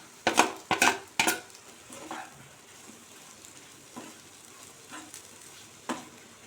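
Raw banana pieces and unpeeled garlic cloves are sautéed in a pan, with several sharp scraping strokes of a spoon against the metal over a faint, low sizzle.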